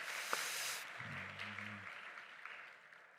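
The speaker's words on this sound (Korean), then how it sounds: "전현주 집사님께 우리 다시 한번 박수하도록 하겠습니다" Church congregation at a Friday night testimony prayer meeting at Samduk Church in Daegu applauds, a steady wash of clapping that begins sharply, stays fairly even and slowly fades, with a low hum briefly underneath.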